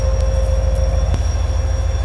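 CSX freight train led by a GP38-2 locomotive rolling past, a steady loud rumble of rail wagons with a sustained squealing wheel tone and a sharp clank, close by with no voices.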